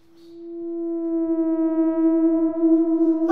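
A single steady siren tone swells up from quiet and holds, with a slight wavering, clear and fairly close, though not the familiar ambulance wail.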